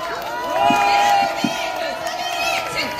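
A crowd at a university student rally against impeachment cheers and shouts to welcome a speaker to the stage, a bright, lively burst of overlapping voices that holds for about three seconds.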